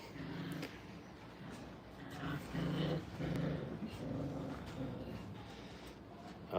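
Six-week-old puppies growl softly while play-biting each other in a training kennel, low rumbling grumbles rising and falling in short bursts against steady background noise, fairly faint and without clear barks.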